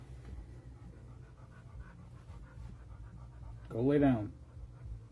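Elderly dogs pant quietly nearby, with a short louder whine or vocal burst near the end, under a person's brief spoken command.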